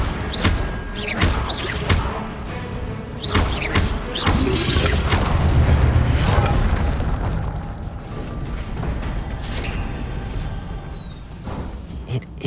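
Incendio fire spell in Hogwarts Legacy, sharp magical cracks and pops followed by a booming fiery roar that swells and then fades, with more scattered snaps afterward.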